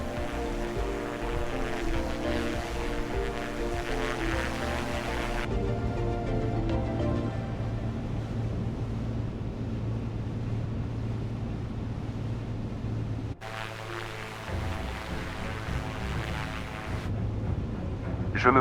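Propeller airplane engine droning steadily in a flight simulation as the plane turns and lands on a runway, a continuous loud hum that shifts in tone abruptly several times, with no voices.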